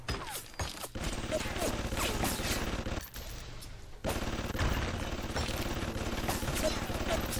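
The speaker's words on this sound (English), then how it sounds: "I didn't realize this guy's shooting at me till now" Enemy gunfire in Bioshock Remastered, a dense rattle of rapid shots and thuds running almost continuously with brief gaps, loud and close, with some voice mixed in.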